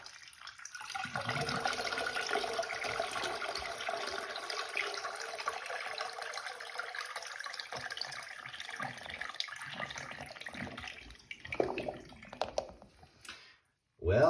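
A toilet flushes with several hundred tiny pom-poms in the bowl, a long steady rush of water that runs for about ten seconds, then tapers with gurgles and a brief pause before another splash.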